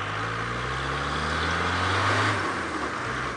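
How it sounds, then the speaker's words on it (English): A safari vehicle's engine drones as it drives fast toward a sighting, with a steady low hum and wind-like road noise that rises slightly before easing. A sharp knock lands at the very end. "I'm going to drive like Ferrari Safari now"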